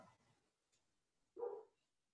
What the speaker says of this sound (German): Hörst du das, dass der bellt?